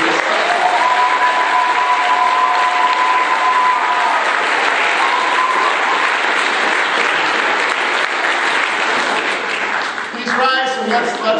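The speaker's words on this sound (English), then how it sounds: "Can we just get applause for Nina and everybody?" Sustained audience applause at a Martin Luther King program and unity walk, a dense wash of clapping with a few brief tonal notes early on, and voices and clatter surfacing near the end.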